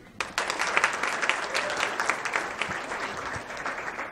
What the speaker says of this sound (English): give these guys a round of applause as they get ready to represent at World Finals